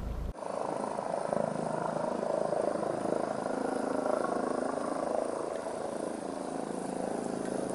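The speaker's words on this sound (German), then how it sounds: "da hinten ist so ein Hubschrauber am Ackenstein" A distant helicopter circling near a rock face in the Allgäu Alps drones steadily, a low continuous thrum that holds without breaks.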